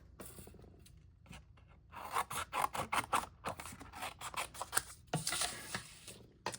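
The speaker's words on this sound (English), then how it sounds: "So I'm going to cut one of these banner pieces with the real red cardstock." Scissors snip through red cardstock for a banner piece, a run of quiet, close, crisp cuts and paper rustles in irregular bursts.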